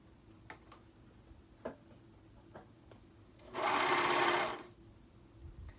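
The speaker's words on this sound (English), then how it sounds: "now I'm going to go ahead and serge those edges together" A serger overlocks the edges of two hoodie fabric pieces in one steady, loud burst of about a second, preceded by faint ticks and clicks of handling the machine and fabric.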